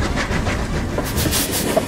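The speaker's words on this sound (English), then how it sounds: "So, as befitting the first intercity express locomotive, we're now going to open her up and see what we can do." The steam locomotive Rocket runs at speed, producing a steady rhythmic rumble with clickety-clack wheel beats and chuffing, sounding close and continuous throughout.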